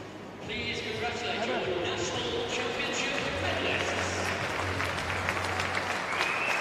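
Crowd applause fills a velodrome in Newport, South Wales during the National Track Championships, a steady wash of clapping held at constant loudness throughout, with a commentator talking over it.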